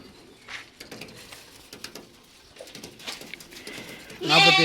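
Mayilambadi goat kids at a farm give a loud, close bleat at the end, after quieter stretches of scattered farm ambience and faint calls.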